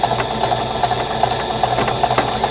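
A sewing machine with a heavy needle stitches close to the edge through several layers of a fabric face mask, a loud, fast, steady mechanical chatter with no talking.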